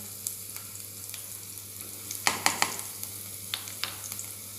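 Hot oil sizzles steadily in a pan as asafoetida and spices are tipped in for a Maharashtrian patodi rassa, with a low frying hiss broken by a quick cluster of sharp crackles and pops, then a few scattered spatters.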